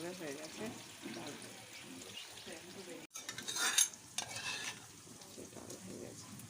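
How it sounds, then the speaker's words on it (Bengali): Paneer fries in a pan with a soft, steady sizzle, broken near the middle by a short burst of louder clattering and stirring. "পনিরটা ভাজা হোক, ততক্ষণ আমি ডালটা খুলে দেখি"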